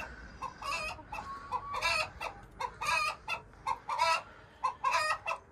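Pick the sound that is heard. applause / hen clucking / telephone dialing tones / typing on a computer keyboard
hen clucking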